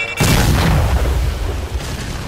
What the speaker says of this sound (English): Throwing smoke!